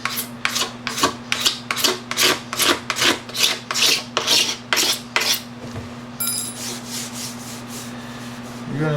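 A file rasps and shaves across a plastic motocross gas tank in a steady run of about a dozen rhythmic strokes, close and loud, then the scraping stops and leaves faint background hum.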